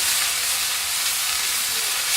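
Vegan potatoes sizzling as a stir fry in a kitchen pot, a dense, close, steady crackling hiss that holds unbroken throughout with no voices over it.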